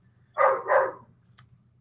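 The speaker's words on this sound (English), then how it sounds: "my dog's barking in the background" A dog gives two quick barks close by, followed a moment later by a short sharp yip, against a quiet indoor background.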